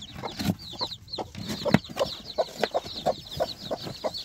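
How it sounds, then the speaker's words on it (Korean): A Cheongye mother hen clucks in short, soft, repeated calls among her newly hatched chicks, whose high, thin peeps chirp rapidly and continuously nearby, with no talking. "어미닭이 올라왔는데 얼른 자리를 비우고서 이 병아리들을 물도 떠주고 사료도 주겠습니다."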